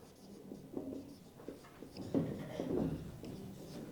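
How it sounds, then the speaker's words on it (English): Writing on a board during a university English lecture: short scratchy strokes, then longer continuous strokes, close and clear, with no talking. "let me write here"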